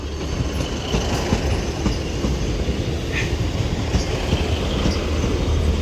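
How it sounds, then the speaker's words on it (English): Two coupled Class 150 diesel multiple units arriving into Manchester Piccadilly station give a steady, loud rumble of engine and rolling wheels, with faint clicks and brief high squeals over the whole span. "This double 150s come from Buxton, but at the rear is 150-108. Terminating into Manchester Piccadilly right now."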